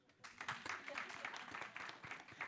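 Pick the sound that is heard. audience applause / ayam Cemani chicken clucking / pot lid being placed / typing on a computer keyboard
audience applause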